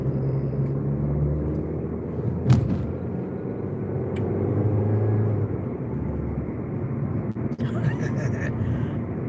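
A car drives along a road in North Florida, its low, steady rumble carrying on under someone talking, with a couple of brief bumps.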